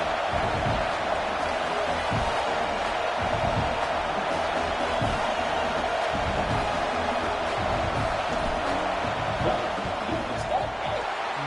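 Stadium crowd noise during a field goal attempt in the football video game NCAA 26, a dense, steady roar of cheering and jeering that fills the whole stretch.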